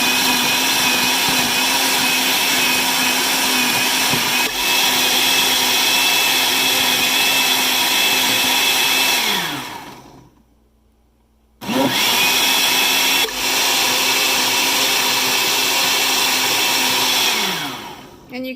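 A countertop blender whirs loudly and steadily, grinding soaked almonds with water into almond milk, motor pitch sagging, briefly stopping for about a second, then roaring back to full speed; no talking.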